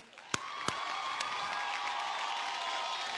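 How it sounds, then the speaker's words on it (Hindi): An awards-show audience in a Mumbai studio bursts into applause, a thick continuous roar of clapping and cheering with a few sharp nearby claps at the start, sustained loudly to the end. "जोरदार तालियां।"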